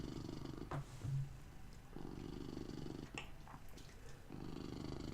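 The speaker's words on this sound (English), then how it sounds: "Looks like the purring is creating some waveforms." A pet cat purrs softly and steadily in a low, rumbling rhythm, close but faint, with a couple of brief louder murmurs mixed in.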